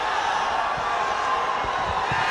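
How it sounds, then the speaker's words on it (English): A fight crowd roaring loudly in an arena, a dense continuous wall of cheering with no breaks, heard up close throughout. "Wow, listen to this crowd, guys. This crowd is going off."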